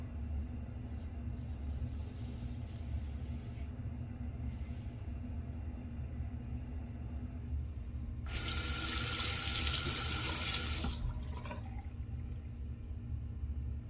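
Water from a sink tap gushes loudly for about three seconds to warm a razor before a head shave, rising over a steady low background rumble and then cutting off.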